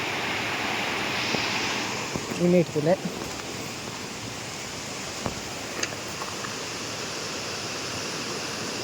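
Rushing water roars steadily as a heavy flow pours over a dam, a continuous broad wash, with a brief voice heard under the noise.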